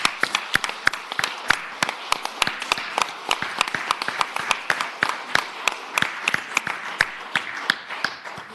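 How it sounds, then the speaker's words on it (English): Applause for the senators in the Virginia Senate chamber: sparse, distinct hand claps at an irregular rhythm, moderately near, with no talk over them. "they deserve a round of applause"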